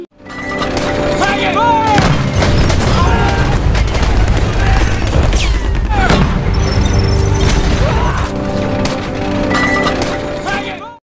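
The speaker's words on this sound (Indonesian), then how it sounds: "Satu persatu mortir dilemparkan ke arah mereka dan berhasil membunuh seluruh kawanan militer itu." Mortar shells fired in a World War II battle scene from a film about Japanese and American forces: heavy, repeated booms and blasts mixed with gunfire and crashing impacts, with voices heard amid the chaos.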